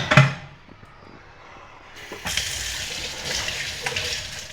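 Dishes used for frying eggs are washed under running tap water in a home kitchen, with a clatter at the start and then a steady, moderately loud gush of water with faint handling sounds.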